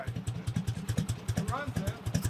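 A Harley-Davidson motorcycle engine running after sitting unused for 12 years, with a vent tube on the exhaust. It idles with a rough, lumpy, loping beat and a clattery top end, heard close.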